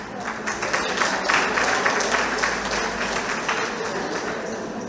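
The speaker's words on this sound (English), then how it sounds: "I'm glad that you at least give a clap" Audience applause at a community centre monthly meeting, a moderate steady patter of clapping from a small crowd lasting several seconds without voices over it.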